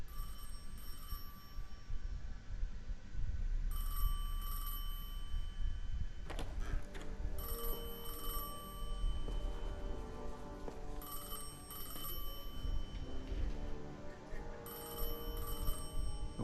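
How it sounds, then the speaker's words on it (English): A telephone rings in repeated electronic bursts, each ring a bright trill separated by short pauses, heard close over a low continuous hum. "I felt the ringing more than I heard it."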